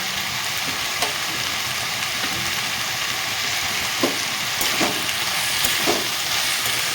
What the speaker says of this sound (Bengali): সবজিটাকে আমি প্রথমে সুন্দর করে একটু হালকা ভেজে নেব